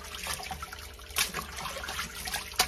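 Tap water runs steadily while raw chitterlings are washed by hand in a sink, a continuous close splashing trickle with brief louder splashes and no talk.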